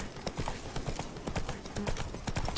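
Horse hooves clip-clopping in The Witcher 3 video game, a quick steady trot of close hoof clops with faint background game sound.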